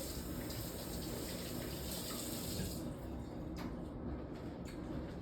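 Tap water runs steadily into a pot or sink in a home kitchen while lamb chops are being cooked, a constant close gushing hiss that eases slightly near the end, with no talking.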